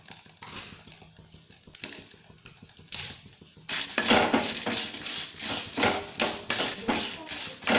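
Ingredients frying in a pan for kadle manoli sukka: quiet clinks and scraping at first, then loud, continuous sizzling and spatula scraping close by, with talk in the background.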